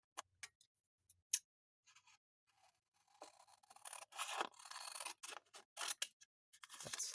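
Scissors cut a book page: a few sparse snips first, then a denser run of crisp paper-cutting crunches, close but quiet, with no talk.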